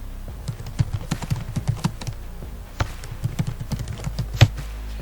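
Someone types a question into ChatGPT on a computer keyboard, producing quick, irregular clusters of close, crisp keystrokes with brief pauses between bursts and no talking.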